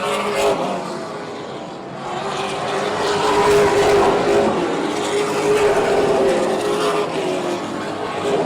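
Super late model stock cars roar around a short oval track at Oyster Bed during a 150-lap race, a loud, continuous engine drone that swells as the pack passes close, with no talking.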